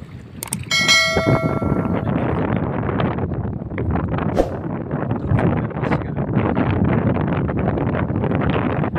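Strong wind buffets the microphone on the Jamuna river during a fishing outing, a loud continuous rumbling roar; a brief ringing, bell-like tone sounds near the start.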